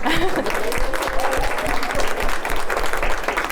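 An audience at a Google event on women in AI claps together in a steady, dense round of applause that holds throughout at moderate loudness.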